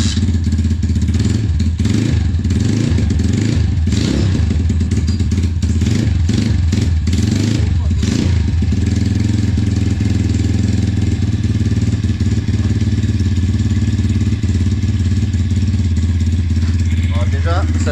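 Motorcycle engine turns over and catches on the first try, then settles into a loud, steady idle close by, with a few clattering revs near the start and a voice over it.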